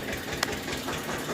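Tractor pulling a water tanker, its diesel engine running at a steady low rumble nearby, with no voices.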